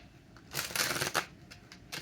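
A deck of cards being shuffled by hand, a short riffle building to a dense fluttering burst in the middle, then a few lighter taps, close and fairly quiet with no talk.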